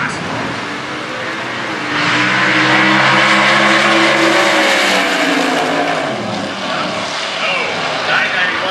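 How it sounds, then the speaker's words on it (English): Super Gas drag racing cars, a 2002 Corvette Roadster and a 1967 Camaro, roaring at the starting line, a loud sustained engine blare swelling and fading, with an announcer talking over it throughout. "Mickey Wojcicki and Chick Ross in the starting line."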